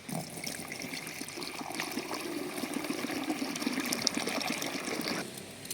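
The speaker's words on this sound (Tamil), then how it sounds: "வாங்க ஸ்ப்ரேயரில் ஊற்றிக்கலாம்." A Trichoderma viride solution mixed in water is poured into a sprayer for treating tomato plants, a steady close gushing and splashing of liquid that runs evenly for several seconds and then cuts off near the end.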